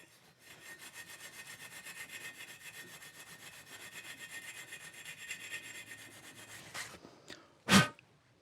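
Scotch-Brite pad rubbing over metal to clear burrs, a rhythmic scratchy scrubbing of quick back-and-forth strokes at close range, followed by a couple of sharp knocks at the end.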